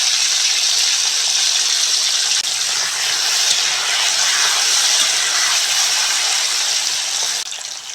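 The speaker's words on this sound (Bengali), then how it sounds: "আলুটা ভাজা হোক" Cut potatoes with salt and a little turmeric frying in a pan for chhanar dalna make a loud, continuous hiss of sizzling oil that eases slightly at the end, with no talking.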